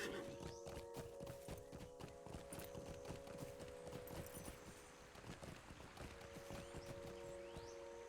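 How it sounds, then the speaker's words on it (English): Horse hooves clip-clop in a steady, fairly close rhythm while riding in Lord of the Rings Online, over a constant tonal hum and game ambience, with no talking. "All right, we're getting on our horse."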